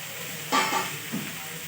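Onion fries in a pan for paneer gravy, giving a short burst of sizzling with a soft stir-like scrape and then a lower, fading hiss.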